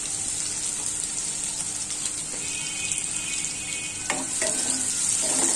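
Chopped onions fry in a small amount of oil in a pan, giving a continuous close sizzle. Near the end a few sharp knocks and scrapes suggest stirring.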